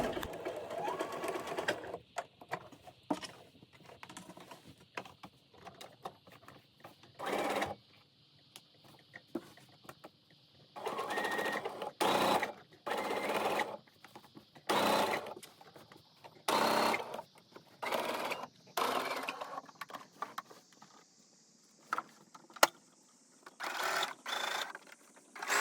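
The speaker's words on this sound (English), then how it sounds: "I like to use a decorative stitch and also a contrasting thread color." A sewing machine runs a decorative stitch in contrasting thread on a stretchy T-shirt, its close mechanical whirring coming in repeated bursts of a second or two separated by short pauses.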